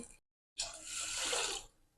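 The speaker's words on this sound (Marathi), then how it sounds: "त्याच्यामध्ये दोन ग्लास पाणी टाकून" Two glasses of water are poured onto washed rice and lentils in a bowl. A brief silence is followed by a close, splashing gush that lasts about a second and then fades out.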